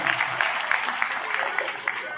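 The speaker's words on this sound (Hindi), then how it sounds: "इसके लिए मैं चाहूंगा जोरदार तालियां आदरणीय नरेंद्र मेहता जी को।" An audience at a political gathering in Mira Bhayandar claps for Narendra Mehta, with dense steady applause under a voice speaking over it.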